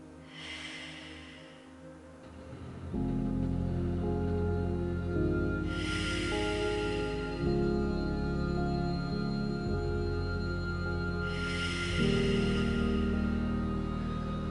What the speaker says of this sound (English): we're just going to breathe here for 3 breaths